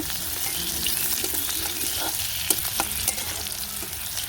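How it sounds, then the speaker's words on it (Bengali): Onions frying in a pan beside a pot of lentils, a loud continuous hiss and sizzle with occasional stirring clicks, close and steady with no talking. "এই যে পাশে পেঁয়াজ ভাজি করে নিয়ে আনছি"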